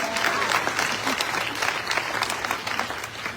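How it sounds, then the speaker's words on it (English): Audience applause for honored small business owners at a county address: a dense, steady patter of many hands clapping together at moderate volume, without a break. "Give them a big round of applause."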